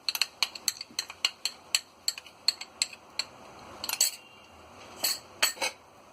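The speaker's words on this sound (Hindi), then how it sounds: "इन सारी चीजों को अच्छी तरह मिक्स कर लेंगे।" A spoon clinks repeatedly against a bowl in quick, uneven taps while yogurt, ginger-garlic paste and spices are mixed, close and fairly quiet.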